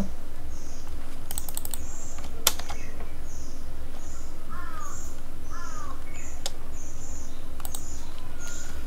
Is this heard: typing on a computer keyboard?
yes